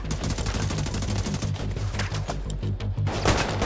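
Gunfire crackles in The Division 2 as shots are traded from behind cover, a dense, rapid, loud burst of automatic fire that keeps going without letup and carries no talk.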